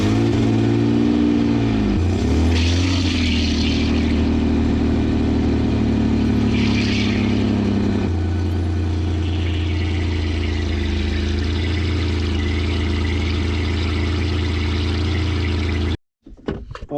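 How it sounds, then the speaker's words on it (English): A Ford Explorer engine idles steadily and loudly with an M5OD-R1 gearbox that has its fifth gear popping out and its cover removed, the drone shifting pitch partway through before cutting off abruptly near the end. "fifth gear is popping out just like before"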